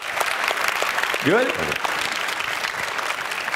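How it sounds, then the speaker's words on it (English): A conference audience on the Slush 2022 stage gives a speaker a round of applause, dense and steady throughout, while a voice briefly speaks over the clapping. "Round of applause for Tom."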